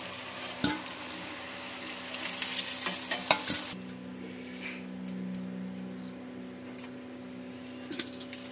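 Paneer snacks sizzle and fry in hot oil in a pan for an evening snack, a steady close crackle with occasional stirring clatter and scraping, louder in the first few seconds then settling into a quieter bubbling hiss.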